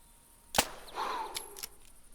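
A single sharp rifle shot cracks out at a cottontail rabbit in the hunting game theHunter 2017, followed by a brief fading tail of sound.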